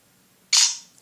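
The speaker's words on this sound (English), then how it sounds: "why is it that I cannot simply remove the shutter sound here," A single loud, crisp shutter sound comes from the camera of a Samsung Nexus S phone, close up and alone against near silence.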